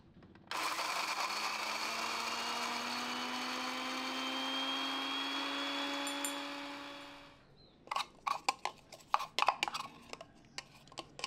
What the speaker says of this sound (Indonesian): Di sini agar lebih cepat saya chopper saja, jadi tidak terlalu halus juga, sedikit kasar